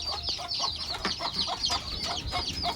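Young chicks at a poultry farm chirp continuously in high, overlapping peeps, a dense and steady chorus heard close up without speech.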